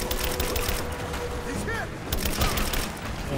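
Rapid gunfire in the video game Rise of the Tomb Raider, bursts of shots cracking close and loud over a busy in-game soundscape, with someone talking over it.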